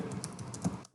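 Quick, close keystrokes tapped on a computer keyboard, an irregular run of light clicks with one firmer press near the end, followed by quiet.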